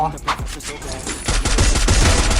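Rapid gunfire bursts in the Free Fire battle royale game, a dense volley of repeated shots that thickens into continuous automatic fire after a brief jump, loud and close.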